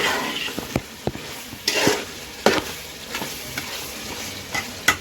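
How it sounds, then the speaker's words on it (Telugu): A spoon stirs goat head curry in a cooking pot, with sharp scraping strokes against the metal over a steady sizzle of frying masala. "అడుగంటుతో ఉంటే కనుక ఇలా కలుపుకుంటే సరిపోతుందండి."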